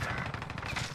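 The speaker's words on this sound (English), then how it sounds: "Ah, I just got shot." A brief burst of automatic gunfire in Call of Duty: Warzone, with a quick run of rapid shots, fairly loud and close.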